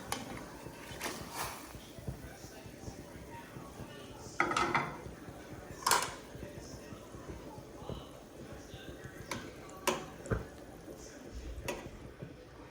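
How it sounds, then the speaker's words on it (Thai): Pieces of pork go into a simmering pot of Thai om moo with mixed vegetables, giving scattered clinks and knocks of utensils against metal and a few louder clanks over a quiet background with no talk. "เราก็ ใส่หมูลงไปค่ะ"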